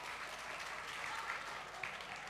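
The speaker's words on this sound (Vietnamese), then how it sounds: "tiếng vỗ tay để nói lên tất cả" An audience applauds at a Vietnamese stage comedy performance: a faint, steady patter of many hands clapping, continuous and even throughout, heard from a distance without talk.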